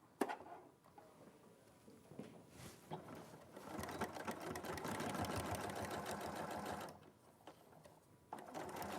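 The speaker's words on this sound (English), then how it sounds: "position your needle towards the edge of the fold, and then sew close to the edge" A sewing machine stitches close to the edge of a folded fabric, a steady mechanical hum and patter that builds and holds for several seconds, fairly faint, with a little background talk.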